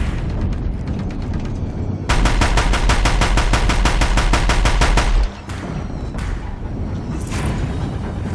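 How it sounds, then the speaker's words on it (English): Deathbringer machines in Horizon Zero Dawn fire guns: heavy, loud automatic bursts of rapid regular shots with deep booms, then scattered blasts amid battle noise. "If the Deathbringers keep firing, this bridge will go!"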